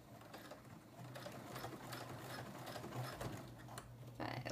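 A sewing machine fitted with a stretch needle sews a seam on a swing dress, humming steadily at moderate speed throughout, close but low in level.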